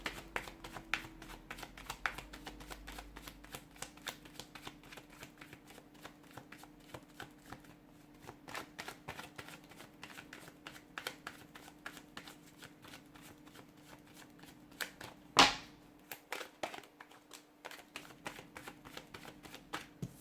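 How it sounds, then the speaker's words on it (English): Tarot cards being shuffled back into the deck, with a steady run of rapid, soft papery riffles and flicks close by, going on and off over a low hum without talk. "I've put those cards back in the deck"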